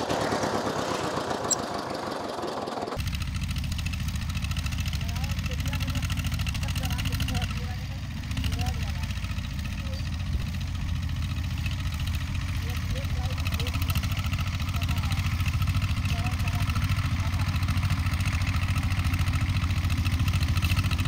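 A tractor engine runs steadily and close while ploughing a farm field in India, a loud continuous low rumble with a slight clatter that holds for the whole stretch after a brief opening sound.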